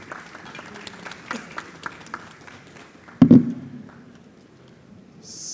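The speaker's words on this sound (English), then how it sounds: "A round of applause" An audience at a SiGMA Pitch Americas startup pitch event gives scattered, sparse claps. A sudden heavy thump cuts in partway through, and the clapping then fades toward quiet.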